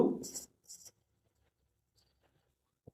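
Pen writing a short answer by hand on paper: a couple of brief, faint scratchy strokes near the start, then near-silence with a tiny tap.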